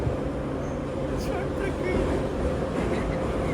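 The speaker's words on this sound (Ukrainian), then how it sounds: "Тепер на метро додому їдемо." Metro subway train riding along, a steady loud rumble and rattle of the carriage throughout, with people talking faintly over the noise.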